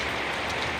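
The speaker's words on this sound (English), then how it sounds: "see the rain pouring down to the earth" Rain pouring down to the earth in a steady, dense hiss that holds evenly throughout, with no pauses and no voices.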